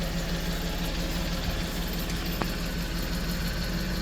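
A 1998 Mitsubishi MiniCab 4x4 dump truck idles close by, its small engine giving a quiet, even, rhythmic purr with a faint steady knock, alone without voices.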